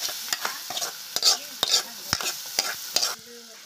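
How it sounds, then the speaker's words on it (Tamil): A spatula scrapes and stirs carrots in oil in a hot pan, with a soft oily sizzle and repeated clattering strokes, close up. "நல்லா அந்த எண்ணெயிலே வதக்கிக்கலாம்"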